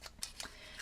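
A banner punch snapping through cardstock in a cardmaking session, a few short sharp clicks and crunches, close and fairly quiet.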